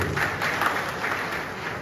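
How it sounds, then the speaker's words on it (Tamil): Applause from the crowd at a DMK general members' meeting in Veppur, a dense, steady clatter of many hands lasting a couple of seconds at moderate loudness. "கைத்தட்டு"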